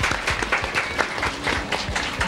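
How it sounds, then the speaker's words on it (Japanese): Applause from a seated audience at a stage show, lively clapping with individual hand claps audible in an uneven rhythm, moderately loud and continuous throughout, with faint voices mixed in. "皆さん拍手お願いします"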